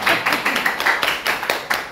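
Church congregation applauding to welcome two visitors, a steady run of many hands clapping close by for a couple of seconds with no talk over it.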